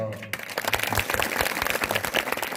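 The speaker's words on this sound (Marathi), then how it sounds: "पूर्णांनी आवाज वाजू, एकदाच टाळी वाजवायची." An audience at a kirtan breaks into a burst of clapping after a brief quiet moment, many hands applauding together for a couple of seconds with some voices mixed in.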